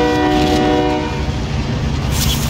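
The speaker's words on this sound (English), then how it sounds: "Here comes the train." A train roars past in the Warzone video game, a loud close rumble with a sustained horn tone and rattling wheels over a short stretch.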